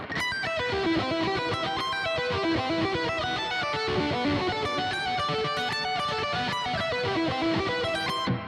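An electric guitar plays a flowing run of notes, washed in lush reverb with a sweeping phaser shimmer, sustained and full throughout.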